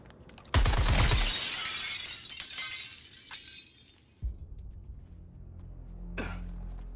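Glass shatters with a loud, sharp crash followed by scattered tinkling shards and a lingering rattle in the video game Suicide Squad: Kill the Justice League, then a heavy thud and a later smaller clink.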